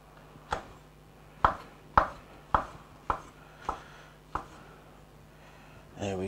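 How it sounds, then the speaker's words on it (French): Knife slicing mushrooms into small pieces on a board, about seven crisp, evenly spaced cuts, close and clear, with a faint rustle at the end and no talking. "So we take our mushrooms. We cut them in small slices."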